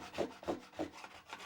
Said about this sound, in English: These ultra-sharp rasps, called microplanes, allow me to shape and surface the new section quickly.